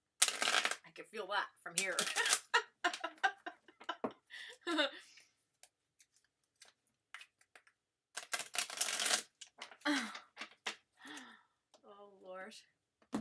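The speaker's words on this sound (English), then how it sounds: "In the meantime, I'll shuffle the deck" A deck of tarot cards is shuffled in several quick riffling bursts, crisp and close, separated by pauses, with a person talking between and over the shuffles.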